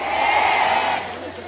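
Festival concert audience at a Bonghwa sweetfish festival giving a loud, sustained burst of applause and cheering crowd noise that fades slightly toward the end, with no talking over it.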